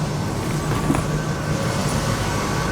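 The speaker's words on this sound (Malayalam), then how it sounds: "ഇത് വളരെ ചെറിയ ഒരു സ്കൈ ട്രെയിനാണ്." A steady low rumble of a small airport sky train at Singapore Airport running smoothly, an even rolling drone with faint rattles and no voices.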